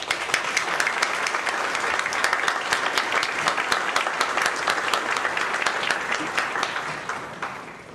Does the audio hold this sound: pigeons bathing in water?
no